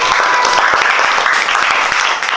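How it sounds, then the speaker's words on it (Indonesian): Classmates clap in a school classroom after a student finishes speaking at the front, a dense, steady round of hand claps lasting a couple of seconds, close and loud throughout. "terima kasih tepuk tangan"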